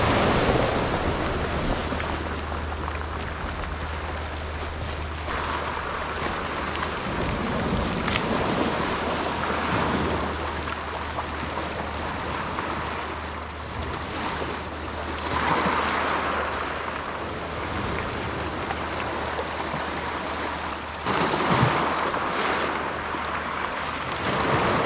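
Ocean surf surges and churns around coastal rocks at Nishi-Izu, a steady loud wash with swells building and breaking in irregular pulses, with wind buffeting the microphone throughout.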